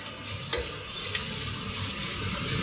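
Finely chopped cabbage sautéing in a pan for fried rice, a soft continuous sizzle with a few scraping stirs of a utensil, close and fairly quiet.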